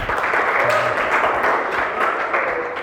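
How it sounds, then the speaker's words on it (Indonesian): An audience at a lecturer certification session gives a short round of applause, a steady wash of clapping, fairly close and moderately loud, with faint voices underneath. "tepuk tangan buat Sabi"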